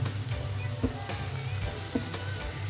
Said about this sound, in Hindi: अब मसालों के साथ जो है टमाटर को हम कुक होने देंगे ताकि टमाटर अच्छे से हमारे सॉफ्ट हो जाए।